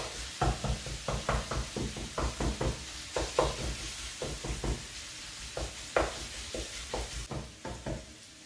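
Meat cooking slowly in a pan over very low heat, in a dish of aubergine with onions and peppers, gives a soft steady sizzle with repeated clinks and scrapes of stirring throughout, with no talk.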